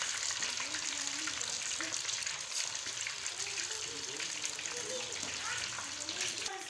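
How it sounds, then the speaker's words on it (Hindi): Chicken gola kebabs frying in hot oil, a steady bright sizzle and crackle filling the whole stretch, close and continuous. "ये देखें कि ये फ्राई हो रहे हैं"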